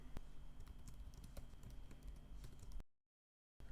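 Keys tapped in a quick, soft run on a computer keyboard while a virtual machine's name is entered in VirtualBox, close and fairly faint, ending in a brief silence before a little more sound.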